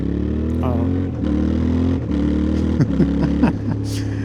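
A 2025 Yamaha Tenere 700 with its CP2 twin engine hums in a steady close drone while riding, the pitch rising and dropping through several revs and gear changes.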